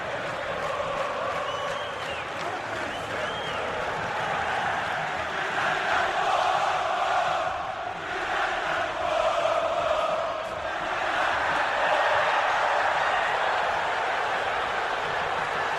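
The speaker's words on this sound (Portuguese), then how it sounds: "E essa é a hora da torcida do Palmeiras cantar." About 49,000 Palmeiras fans sing together in Morumbi stadium during a 2008 Campeonato Paulista match against Corinthians, a steady, distant roar of massed voices filling the whole stretch.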